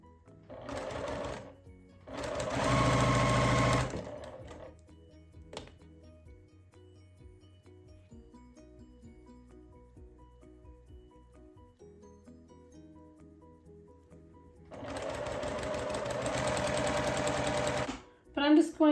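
Bursts of a sewing machine stitching quilt block pieces run in rapid steady buzzes, pausing between seams while someone talks quietly, then starting again close and clear.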